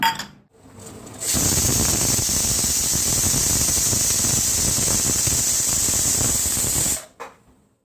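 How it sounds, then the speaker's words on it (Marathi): A pressure cooker holding carrot and pumpkin for soup lets out one loud, steady hissing steam whistle that holds for about six seconds and then cuts off, with no other sound around it. "गाजर आणि भोपळा मी कुकरला लावून 4 शिट्ट्या काढते"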